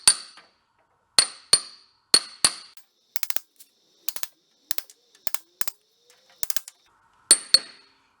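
Sharp metallic taps ring out as a socket edge drives a seal into place on a VW Thing, coming in spaced pairs and quick clusters, close and crisp, with silence between strikes.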